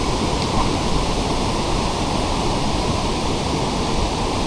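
Waterfall flowing beside the Konkan Railway line at Ukshi, a steady broadband rush of falling water that stays close and loud with no break.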